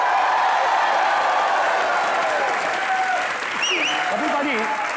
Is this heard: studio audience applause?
yes